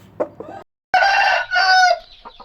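Green chicken with a pale, yellow-faced illness clucking up close and loud, a couple of short clucks followed by a longer drawn-out squawking call.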